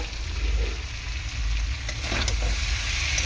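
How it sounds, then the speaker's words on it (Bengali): Potatoes sautéing for a curry in a covered pan on low gas sizzle and crackle steadily and close up, with a few stirring scrapes partway through. "এই আলুটা যখন কষাবো আমি একটুখানি ঢাকা দিয়ে দিয়ে কষাবো"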